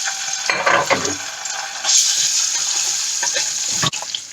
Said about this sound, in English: Now I'm going to saute the onion and the ginger garlic.